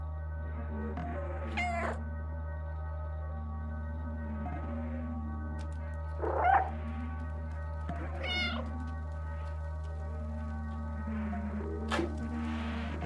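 Cat meowing in the video game Stray, several separate meows spaced a few seconds apart over a steady low hum, fairly faint and with no talking.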